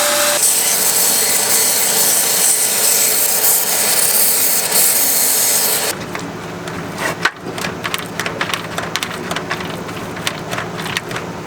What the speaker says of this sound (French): on a préparé la surface, on a sablé la surface, brossé avec une brosse métallique